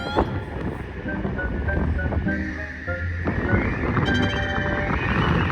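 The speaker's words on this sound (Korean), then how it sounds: "이날은 정말 바람이 극도의 공포였습니다" Strong wind buffets the microphone as a continuous rough roar high on a 404 m suspension bridge, with faint tones drifting through.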